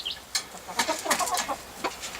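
A farmyard rooster clucking in short, close bursts, a quick series of throaty calls in an uneven rhythm heard alone outdoors.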